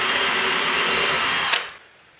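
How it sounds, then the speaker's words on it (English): A small rotary tool mounted in a homemade drill press bores a hole through a dovetail piece, a steady high whine running for about a second and a half before the motor cuts and spins down into near quiet. "On the dovetail, I've got to drill this other hole also."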